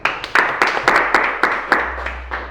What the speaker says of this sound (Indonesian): Aplaus untuk kelompok Lukas